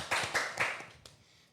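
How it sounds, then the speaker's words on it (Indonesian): Several bursts of hand clapping, loud and close, welcoming guests on an Indonesian educational podcast, tapering off after about a second with a few scattered final claps. "boleh dong kita kasih tepuk tangan dulu nih untuk kakak-kakaknya"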